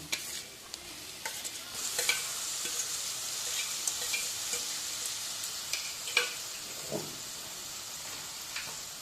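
Boiled rohu or catla fish stirred into a spice masala sautéing in a pan, giving a steady soft sizzle with scraping stirs and occasional spatula knocks, close and moderately quiet, with no talking.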